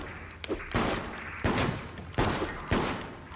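Bursts of gunfire in the survival horror game Silent Hill Downpour. About four heavy, evenly spaced volleys boom close and loud over a low rumble, with no speech.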